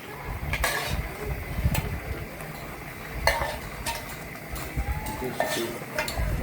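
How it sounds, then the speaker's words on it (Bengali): Native koi fish going into a simmering bottle-gourd-leaf curry in a pot: a bubbling, sizzling simmer with scattered scrapes and clinks of a utensil against cookware, moderately close and steady throughout. "এই যে কই মাছ দিয়ে দিচ্ছি।"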